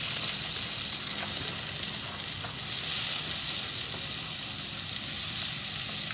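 Garlic and onion frying in a little oil, a steady close sizzle and crackle with a constant bright hiss that continues evenly throughout, no talking.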